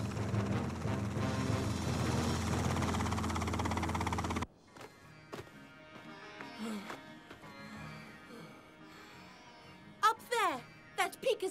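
A cartoon helicopter whirs loudly and steadily for about four seconds, then cuts off abruptly, leaving softer scattered sounds and voices talking.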